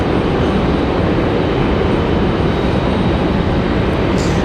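American Airlines Airbus A321 departing Raleigh-Durham airport, heard as a dense, unbroken broadband jet roar at steady loudness, with a faint high hiss near the end and no speech.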